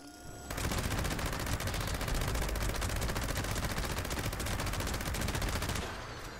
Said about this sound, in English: That explosion, though, that is sick. That is a sick explosion right there.